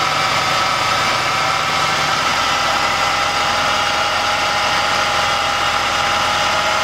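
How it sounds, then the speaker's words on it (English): A Subaru Brumby engine fitted with a Weber carburettor idles steadily while its mixture screw is adjusted, giving a continuous, loud, even hum and vibration throughout with no voices. "Mixture screw, we simply turn it slowly in or out to achieve the highest idle."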